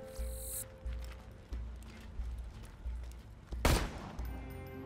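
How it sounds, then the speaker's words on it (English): Sniper rifle fire in the video game Borderlands 2 comes as repeated muffled shots at a regular pace, with one louder crack near the end, over a low game-audio background and no speech. "This is a sniper rifle?"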